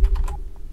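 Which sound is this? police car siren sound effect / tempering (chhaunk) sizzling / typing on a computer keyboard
typing on a computer keyboard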